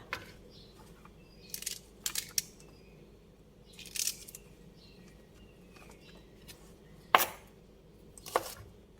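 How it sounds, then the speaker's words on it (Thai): A knife chops long beans into short pieces on a cutting board for a stir-fry with minced pork, giving sparse, irregular sharp knocks spaced a second or two apart over a quiet room. "หั่นเป็นท่อนเล็กๆ สั้น ๆค่ะ"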